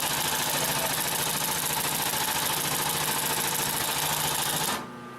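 A Consew 744R-30 long-arm walking foot sewing machine stitches through thick leather with a loud, fast, steady mechanical chatter, running alone until it stops abruptly near the end, leaving a quiet hum.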